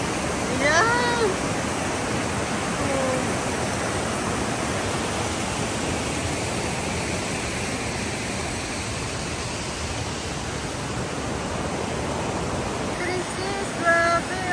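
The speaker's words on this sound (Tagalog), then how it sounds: "Yung agos ng tubig. Nakaka-relax." Anna Ruby Falls in Georgia pours in a steady, loud roar of falling water that fills the whole stretch without a break, with brief faint sounds at the start and end.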